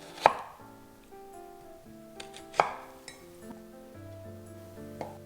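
Vegetables being cut with a kitchen knife on a board for Japanese nikujaga, two sharp chops standing out among lighter taps and a few clinks, with faint tonal background music and no speech.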